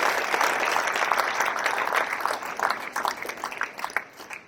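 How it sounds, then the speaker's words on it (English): Audience applause during a university strategic plan update presentation, a crowd of hands clapping steadily at moderate volume, then tapering into scattered individual claps as it fades. "Round of applause, yeah."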